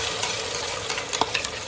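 Tomato, ginger, garlic and onion go into a hot pan with a bay leaf, a loud close sizzle with a few stirring scrapes and clinks over a brief burst.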